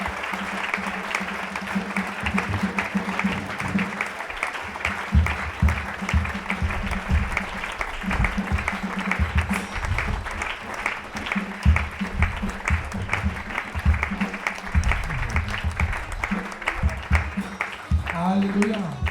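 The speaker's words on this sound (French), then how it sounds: "On acclame encore très fort." A church congregation at a worship service applauds loudly and continuously, dense clapping mixed with cheering voices throughout.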